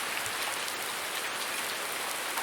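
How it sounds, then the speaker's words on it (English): Steady rain in the farming game Farming Simulator 19, a dense, even hiss of drops drumming on surfaces with no pauses, fairly loud and close throughout. "Dang, still raining."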